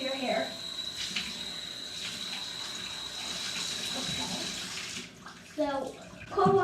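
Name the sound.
running water while washing hair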